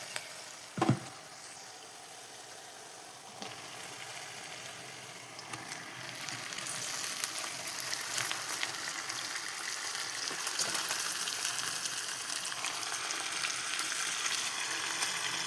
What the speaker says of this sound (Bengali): মাংসগুলো ভালো করে পেঁয়াজ আর তেলের সাথে ভালো করে পেঁয়াজের সাথে ভেজে নেবো মাংসগুলো